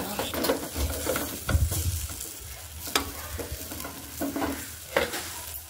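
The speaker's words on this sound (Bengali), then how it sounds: "এইভাবে কিন্তু অনেকবার কিন্তু এপিট ওপিট করে উল্টে নিতে হবে" Brinjal slices are dry-fried without oil and flipped in a pan, giving soft sizzling with scraping and clattering turns, several sharper knocks from the utensil against the pan, close up.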